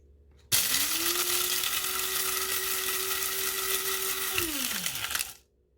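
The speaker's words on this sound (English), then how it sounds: "I'm probably wearing my coffee grinder out, or I don't have it on tight enough." A coffee grinder crushing eggshells runs as a steady, loud motor whine with a gritty rattle for about five seconds, then winds down and stops, with no talking.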